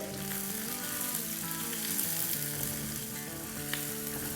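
Onions, green chillies and cashews sautéing in a large pan over a medium-high flame give a steady, close sizzle with soft stirring scrapes, continuous and even, with no voices.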